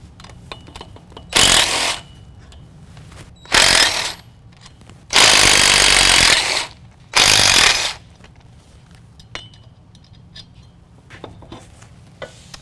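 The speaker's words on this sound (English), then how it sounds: "you're going to go ahead and remove these 4 bolts from the drive shaft." A power tool removes the four drive shaft bolts on a 2016 Chevy Silverado 1500 during a lift kit install, heard as four loud, close whirring bursts of about one to one and a half seconds each, with quiet shop noise between them.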